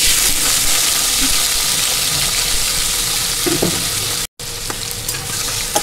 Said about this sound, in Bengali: কাঁচামরিচ, রসুন, পেঁয়াজ নিয়েছি। এখন রান্না করে ফেলি।